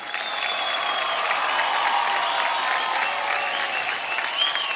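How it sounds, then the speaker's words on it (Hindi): Loud, continuous applause from a studio audience for a performer on a televised talent show, dense and steady with faint cheering mixed in. "लवली मांझी बारिक के लिए जोरदार तालियां"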